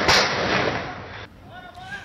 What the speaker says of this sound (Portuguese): Olha o tiroteio na avenida, na linha vermelha, tudo parado.